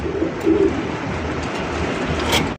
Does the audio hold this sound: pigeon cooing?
yes